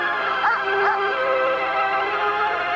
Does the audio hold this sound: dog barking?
yes